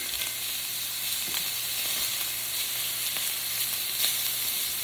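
Steady, loud sizzling of chicken frying in a hot cast iron pan, continuous crackle and hiss with no talking.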